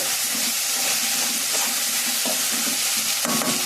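Okra sizzling in hot oil with chilli powder, turmeric and salt, a steady close frying hiss broken by a few soft stirring scrapes and clinks, with no talking.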